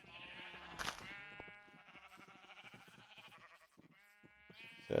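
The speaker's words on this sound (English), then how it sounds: "Hello, sheep." Freshly sheared sheep in Minecraft 1.17 let out a string of nasal, wavering bleats, clear and fairly close with no talk over them.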